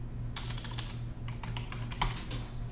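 A command is typed out on a computer keyboard in a short, quick burst of close key clicks, ending with a firmer tap.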